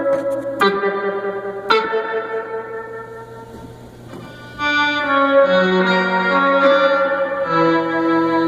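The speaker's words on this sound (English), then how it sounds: "Way too much reverb on that lower." A vintage electronic organ, a 1957 Conn Classic or 1948 Wurlitzer Series 31 electrostatic, plays sustained chords drenched in heavy reverb. Two struck notes come first, then a fuller passage of held tones, all close and alone.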